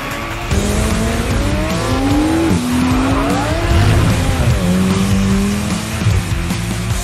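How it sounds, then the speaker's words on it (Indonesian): A McLaren 765LT supercar drives hard, its loud engine note rising and falling through gear changes alongside tire squeal, continuous and close for several seconds. "Inilah McLaren 765 LT."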